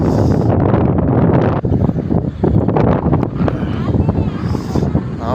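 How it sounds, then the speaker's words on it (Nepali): Strong gusting wind roars across an exposed mountain trail, loud and close, buffeting the microphone almost without pause. "हावा चाहिँ एकदम ठुलो चल्छ है यहाँ"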